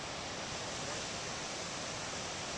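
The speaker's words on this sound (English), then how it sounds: "There's a little set of waves rolling through right now." Pacific Ocean waves rolling in at the tip of a peninsula on the Costa Rican coast, heard as a faint, continuous broadband surf roar with no distinct breaks.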